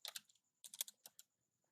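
Short bursts of typing on a computer keyboard, close and quiet: a quick cluster of key clicks, a pause, then a second quicker run of taps that fades to near silence.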